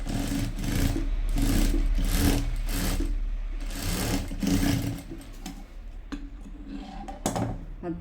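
A sewing machine stitching a saree blouse runs in bursts, with a steady mechanical whir and rapid needle chatter. Brief pauses and small clicks break it up toward the end, and no one speaks.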